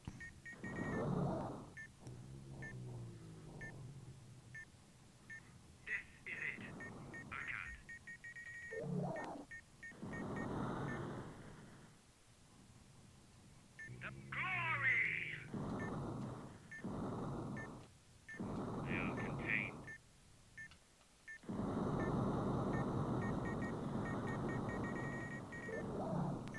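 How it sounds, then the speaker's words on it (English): Electronic beeps in the Sega Saturn game Space Hulk sound in repeated bursts, loud and close, separated by short quiet gaps, with no other sounds or voices. "there's like no gunshot sounds or anything. It's just like beep beep beep beep beep beep beep beep beep beep."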